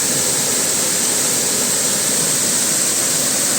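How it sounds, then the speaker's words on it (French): Erawan waterfall in Thailand, a steady, loud, broadband roar of falling water filling the whole clip with no pauses and no voices. "allons vers la quatrième cascade"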